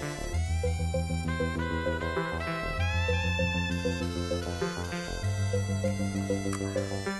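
Relaxed, mellow soundtrack music from the video game Donkey Kong Country 2, with a steady repeating bass pattern under layered sustained melodic tones, playing continuously and fairly quietly with no voices.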